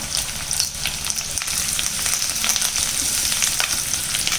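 Ginger, green chili and curry leaves fry in hot oil in a pan, giving a loud continuous sizzle with crackling pops and occasional stirring scrapes throughout.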